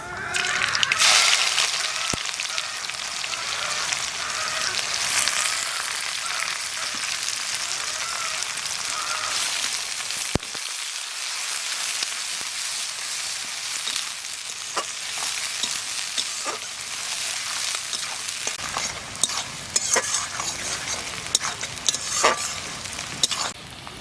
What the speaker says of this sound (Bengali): পেঁয়াজটা অর্ধেক ভাজা হয়ে গেছে